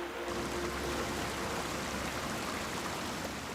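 River water flowing steadily through a winter forest, a continuous close broadband rush and babble with no pauses.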